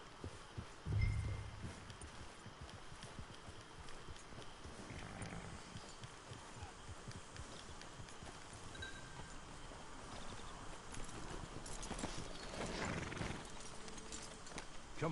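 Steady clip-clop of hooves plodding along over a rustling outdoor background, moderately loud with a brief thump near the start.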